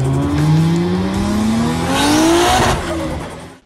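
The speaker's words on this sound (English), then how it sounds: "Let's get the car inside." Ford FGX Falcon driven into a garage, its engine rising steadily in pitch as it accelerates, with a brief tyre squeal and surface noise, loud and close before the sound cuts off.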